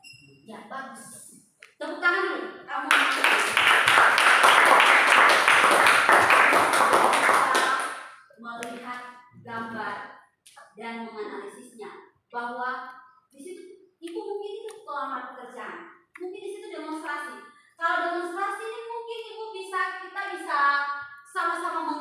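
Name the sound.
classroom students clapping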